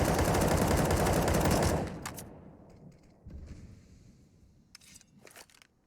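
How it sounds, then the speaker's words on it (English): Sustained full-auto gunfire in a Counter-Strike match between Navi and Fnatic, sprayed into a smoke cloud, loud and rapid for about two seconds before cutting off into quieter scattered game sounds and a few later shots. "Full magazine of bullets from Crims invested towards the smoke."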